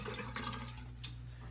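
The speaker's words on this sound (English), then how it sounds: "I'm gonna just run some water through it." Tap water runs through a Parker Shaving Company boar-bristle shaving brush with a redwood handle, giving a quiet, brief trickle and splash against a low steady hum, with no speech.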